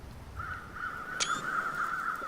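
A single crow in The Long Dark gives one drawn-out, steady caw lasting nearly two seconds, loud and close, over a low wind hush with no talking.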